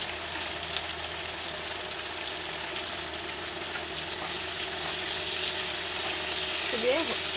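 Pumpkin dish with turmeric frying in a pan gives a steady, soft sizzle throughout, fairly close, with a faint stir or clink near the end and no speech.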